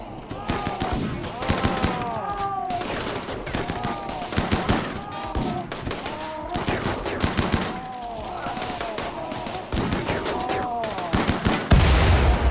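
Rapid automatic gunfire from defensive turrets in the colony game RimWorld, dense overlapping bursts of shots rattling continuously throughout, loud and close, with a brief heavier blast near the end.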